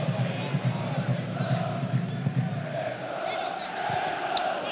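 Football crowd cheering at a Kalmar FF versus IFK Göteborg match, a steady loud roar of a stadium crowd with chants and whistles rising and falling throughout.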